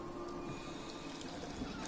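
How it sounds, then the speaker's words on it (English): Water runs steadily from a tap while bottles are filled at a sink in Fallout 4, a constant soft splashing rush with no talk over it. "Right, let's fill up some bottles."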